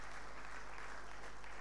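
A seated audience at a French business event claps together, a dense, even wash of applause that is fairly distant and holds steady throughout.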